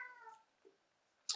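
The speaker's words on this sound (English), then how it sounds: "my cat's here to give me a mouse toy" A house cat gives a short, faint meow close by, followed by a couple of small soft noises in a quiet room.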